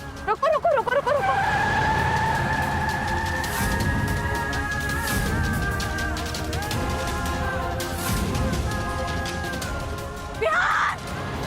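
A car brakes hard, tires squealing in a long skid to a stop, with voices shouting over the screech and a brief thump at the end.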